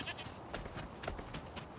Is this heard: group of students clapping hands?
no